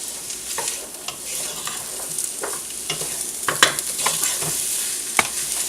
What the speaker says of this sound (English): I just want to get these onions a little bit sauteed here.